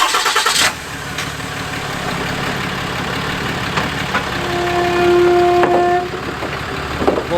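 A truck engine turns over and rumbles loudly, idling and revving as the truck pulls away from an RV nearby, with a brief whine rising midway.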